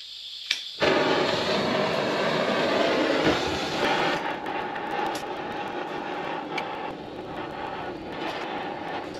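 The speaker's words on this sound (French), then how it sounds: "Donc là le but du chalumeau c'est tout simplement de venir dilater la partie qui englobe le cône pour essayer de le décoller." A blowtorch flame roars steadily and loudly, close up, as it heats the part around a steering cone on a BMW 530d, with a brief clank near the start.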